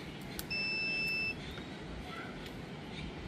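A continuity tester buzzer sounds a single steady electronic tone for just under a second while checking a Haier LED TV, then cuts off. A quiet hum continues underneath.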